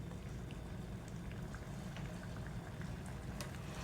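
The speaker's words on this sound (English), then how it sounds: "Let's bring that back up to a simmer." A butter pan sauce for veal piccata simmers steadily in a skillet, a soft continuous bubbling hiss with faint pops, low and even throughout with no voices.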